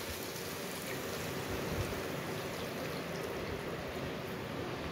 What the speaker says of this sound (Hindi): आगे पानी ऐड करदे